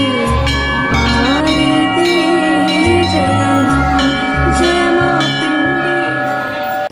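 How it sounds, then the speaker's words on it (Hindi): Temple bell rung at the gate of Khitora Wali Mata temple in Sehaswan, loud metallic clangs struck in a steady repeating rhythm with long ringing overtones that sustain throughout. "माँ के द्वार पर घंटा बजाकर हमने उनके मंदिर में प्रवेश किया"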